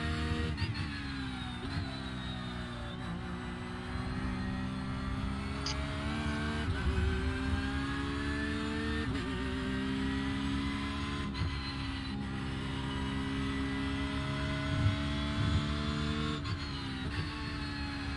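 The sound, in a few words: race car engine in a racing video game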